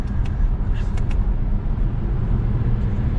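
A 2022 Lexus ES350 pulls ahead under throttle, its engine and road rumble heard from inside as a steady, loud low drone with faint tire and wind noise over about three seconds.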